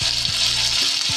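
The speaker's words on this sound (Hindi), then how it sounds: "बस हमने इतना फ्राई करना है इसको कि इसका कच्चापन ख़त्म हो जाए" Garlic ginger paste fries in about two tablespoons of oil in a wok, giving a continuous close, bright sizzle with a few soft stirring bumps underneath.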